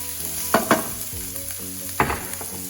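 Onion, celery, garlic, carrot and pancetta sweating in olive oil in a pan: a soft continuous sizzle with three or four distinct scraping stirs, close up, alone without voices.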